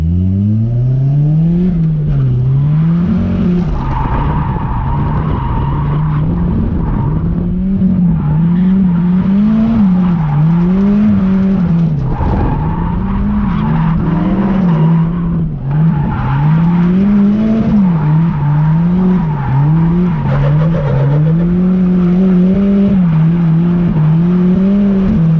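Drift car in a competitive drifting event, engine revving with a wavering, sustained pitch and tire squeal for the whole stretch, loud and continuous with no voices.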